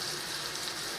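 Four chuck burger patties frying in butter in a pan, giving a soft, steady, even sizzle like fine rain, faint and continuous with no talking.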